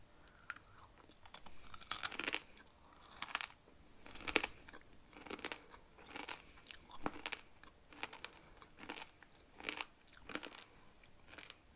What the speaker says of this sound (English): the outside is crunchy and then that bit melts in your mouth